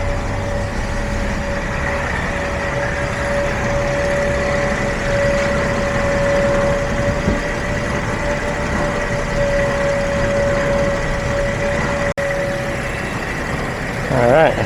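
Mercedes Sprinter van's 3.0L V6 OM642 diesel running steadily at idle after a no-start repair, a constant close engine drone with a faint whine and no clear revving.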